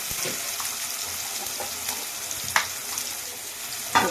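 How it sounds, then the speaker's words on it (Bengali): Marinated rui fish sizzling as it goes into tomato gravy in a pan, a steady soft frying hiss with a couple of sharp crackles near the end, close and without talk. "এবার একটু দিয়ে দেবো সেই ম্যারিনেট করে রাখা মাছটা"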